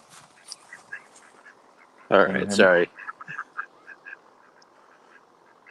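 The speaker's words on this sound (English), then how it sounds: "Ducks are great for getting rid of pests, man." Ducks quack in a loud, close burst midway through, with softer scattered quacks before and after it. A person briefly speaks.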